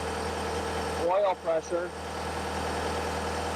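A Doppstadt trommel screen engine idles just after start-up, a steady low hum throughout with a brief rise near the middle, while a person talks over it.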